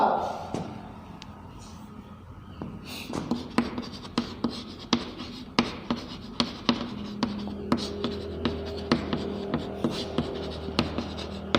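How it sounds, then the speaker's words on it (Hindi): Chalk or marker writing on a classroom board during a Class 10 science lesson, with a steady run of crisp, rhythmic strokes and taps, fairly loud and close. "तो देखो लिखेंगे"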